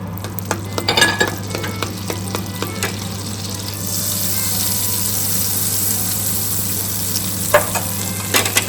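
Butter melting and sizzling in a little cooking oil in a frying pan for shrimp, a steady close frying hiss with occasional stirring clinks and scrapes, rising slightly partway through, alone without talk.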